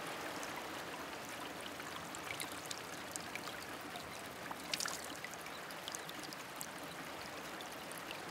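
Water flows steadily in a sacred stream at Taevaskoda, Estonia, a continuous soft outdoor babble with faint trickles and small splashes, quiet and with no voices.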